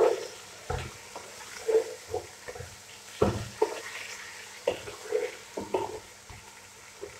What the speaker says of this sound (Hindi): टमाटरों को 5 मिनट के लिए फ्राई करेंगे ताकि टमाटर हमारे अच्छी तरह मसाले में मिक्स हो जाए।